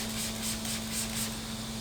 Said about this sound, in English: Spray the brown out on the rag.